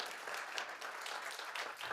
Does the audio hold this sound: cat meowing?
no